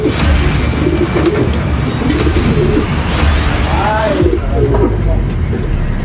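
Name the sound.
pigeons cooing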